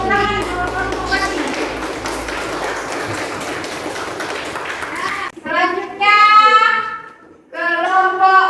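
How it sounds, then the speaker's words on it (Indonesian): Brief applause for a student group at a classroom teaching assessment, a steady patter of claps for about five seconds before it gives way to children's voices. "Beri tepuk tangan untuk kelompok Bali."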